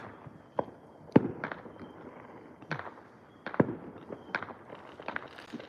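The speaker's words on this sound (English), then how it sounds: "there's fireworks going off over there, but like they're a little bit further away than the ones that were going off a moment ago" Distant New Year's Eve fireworks popping and booming in scattered single bursts, some sharper and closer, heard from a balcony with no talking.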